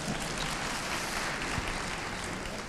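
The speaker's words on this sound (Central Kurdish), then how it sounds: "چەپڵەیەک بۆ من" Steady, dense applause from an audience at an awards ceremony fills the whole stretch, loud and continuous without any clear break.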